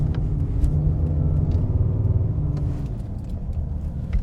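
A car drives during a short-film vehicle pursuit, its engine a loud, steady low rumble that holds throughout with little change, no voices present.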